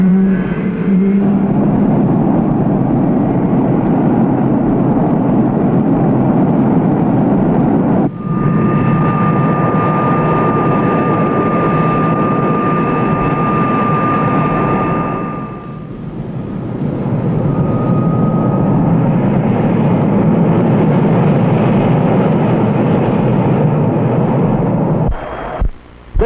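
USAF Thunderbirds jet aircraft engines roar loudly and continuously for a long stretch, with a thin whining tone rising above the roar midway through.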